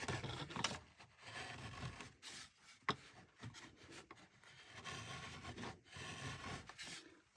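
Sharp chisel paring a chamfer across the end grain of wood for a seven-string lyre: repeated dry scraping, rasping strokes, close and moderately quiet, in short uneven bursts with brief pauses.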